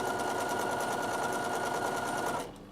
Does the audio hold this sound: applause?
no